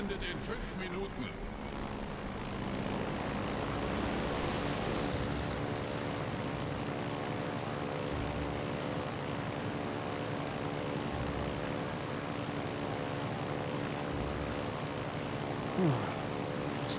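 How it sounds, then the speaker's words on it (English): Propeller aircraft droning steadily in the naval battle game World of Warships Legends, a continuous engine hum with harmonic tones running throughout, moderately loud, with someone talking over it. "I don't know if those planes will last another run."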